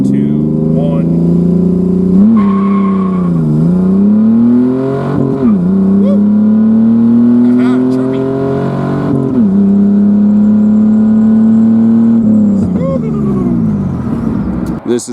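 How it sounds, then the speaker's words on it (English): Loud, close engine of a turbocharged Pontiac Fiero pulling hard on a quarter-mile acceleration run, revs climbing and dropping sharply at each gear shift through a steady roar. "This is our quarter-mile pass, our 0 to 60."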